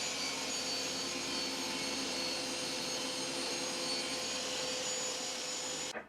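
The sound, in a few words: saw cutting wood on a crosscut sled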